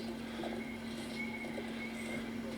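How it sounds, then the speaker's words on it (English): In the Darksiders 2 video game on Xbox 360, a horse is summoned with quiet hoofbeats and a whinny over a steady, faint game soundtrack hum. "summon or banish the horse"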